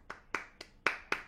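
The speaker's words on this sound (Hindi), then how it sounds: "आज के लिए हम ज़ोरदार ताली बजाएंगे आज के ध्यान के लिए" Loud, sharp hand claps from a group at a meditation session, five distinct claps spaced roughly a quarter second apart, close and alone with no talk.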